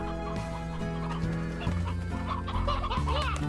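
Chicken in the game Slime Rancher clucking repeatedly in steady bursts, up close over a layered music backdrop with no talk.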